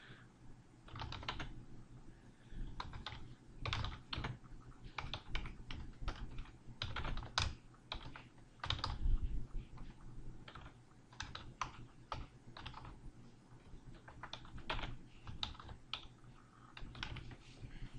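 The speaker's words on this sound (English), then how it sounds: "so let's type something in it" Keys on a computer keyboard tapped in a long run of quick, irregular clicks with brief gaps, fairly faint against a low background hum, no voices.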